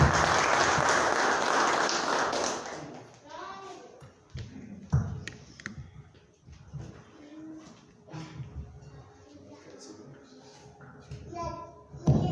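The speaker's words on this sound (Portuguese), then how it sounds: "palmas no meu Senhor Jesus" Congregation clapping together at a church service, a dense burst of applause filling the first few seconds before it fades out into scattered voices and talk.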